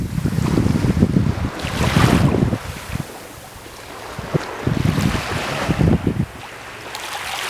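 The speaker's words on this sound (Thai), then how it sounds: "สายลม" Wind buffets a boat at sea on an evening fishing trip off Ranong, a steady rushing roar with surging gusts over the wash of waves.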